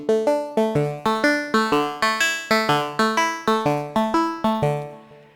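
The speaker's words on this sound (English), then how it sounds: "with this patch I mapped a macro to make the banjo have different types of tones" Synthesized banjo tones from a Vital patch pluck a rapid, even melody of bright, quickly decaying notes while a macro shifts their timbre, ending in a ringing fade.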